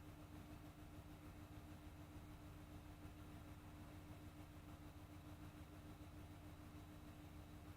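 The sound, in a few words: car passing by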